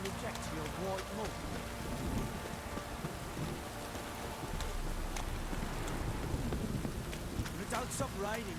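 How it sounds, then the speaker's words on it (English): Rain falls steadily in The Witcher 3, a dense even hiss of drops on surfaces continuing throughout with low rumbling underneath. "If it don't stop raining, my arse will rot off."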